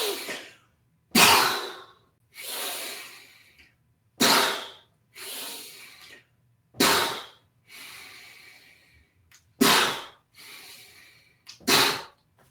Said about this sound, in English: we're going to take a deep breath in